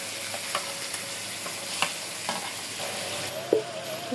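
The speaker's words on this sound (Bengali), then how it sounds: "ভালোভাবে তেলের সাথে কষায় নেব, মশলার সাথে।" Dried chili paste and spices fry in hot oil for a Bengali chicken curry, giving a steady close sizzle with scattered soft clicks of stirring and a few sharper scrapes of the spoon against the pan.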